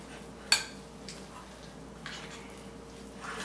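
Hot cheese and potato mixture being stirred in a dish, giving a sharp utensil clink near the start and soft, sporadic scraping and squishing sounds, close and fairly quiet with no talking.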